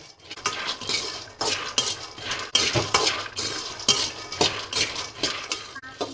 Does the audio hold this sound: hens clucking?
no